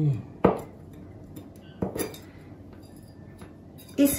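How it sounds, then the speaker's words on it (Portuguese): A knife taps on a cutting board while mushrooms are cut into tiny cubes, a few sharp clicks spread apart and close by, with quiet gaps between strokes. "Eu vou cortar cogumelo."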